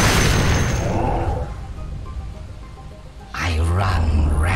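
A top tower is destroyed in Dota 2: a loud boom of collapse up front, a quieter stretch, then a second burst of crumbling impact and rumble.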